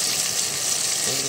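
Garlic goes into a hot pan for a wheat rava dish and fries: a close, steady hiss of sizzling oil runs throughout, with faint background sounds.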